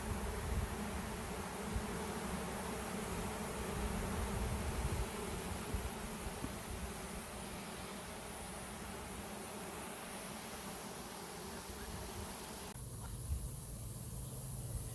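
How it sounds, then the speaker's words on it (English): A large swarm of honey bees buzzes in a dense, steady drone that fills the whole stretch, close and loud, with no talk. "They've mostly settled down now, and there's a lot of bees here"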